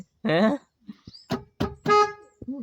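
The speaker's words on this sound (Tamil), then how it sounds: "ஹார்ன் அடிக்குது இதான் ஹார்ன் அடிக்கிறதா" Short, bright honks of a vehicle horn sound in quick bursts, close by, mixed with people talking.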